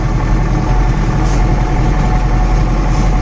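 A ZIL-130 truck engine drones steadily while driving, a loud, constant low rumble heard from close by with no talking.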